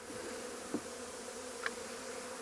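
Honey bees buzz steadily in an old hive left alone for twenty years, a dense continuous drone close by with a couple of brief louder passes, no voices.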